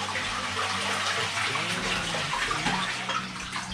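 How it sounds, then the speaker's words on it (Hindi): Water runs steadily from the hand-wash tap on top of a Japanese toilet tank in a house in Nara, a continuous close gushing that fills the whole stretch with no talk over it. "पानी यहाँ से आता है"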